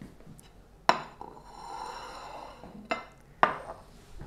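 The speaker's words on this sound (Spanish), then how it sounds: "Ahí vamos a limpiar el plato porque se me manchó un poquito." A stained plate being cleaned after a meal, with three sharp clinks of crockery spread across a quiet stretch and soft wiping between them.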